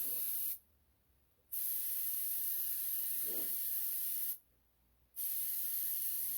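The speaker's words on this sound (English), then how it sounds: "And we're spraying the whole thing, trying to get it all into the details and all that stuff." Close, steady hiss of spray paint being applied to a prop pumpkin, running in long bursts broken by two short pauses, loud and with no voices.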